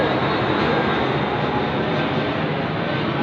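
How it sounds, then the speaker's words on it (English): A small propeller plane flies overhead, its steady broadband engine drone loud and continuous throughout, heard from outdoors near a house. "Okay, a little wee plane."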